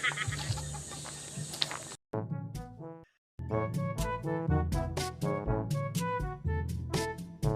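Chickens cluck close by in a series of rapid, choppy calls, with one brief silent gap; a busy, noisy stretch precedes the clucking.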